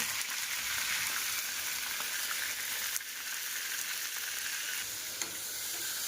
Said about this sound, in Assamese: কেৰাহী গৰম হৈ গ'ল, চিকেনটো দি দিওঁ দেই।